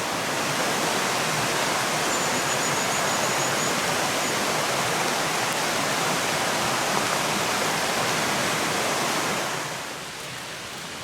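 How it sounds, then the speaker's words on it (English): A waterfall near Hadrian's Wall pours in a loud, continuous broadband rush of falling water close by, steady throughout before dropping slightly in level at the very end. "that's waterfall number 3"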